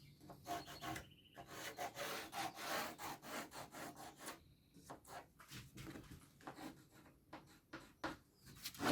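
A handsaw cuts wood for a canoe build, back-and-forth rasping strokes in a steady rhythm with a few short pauses, close up and fairly quiet.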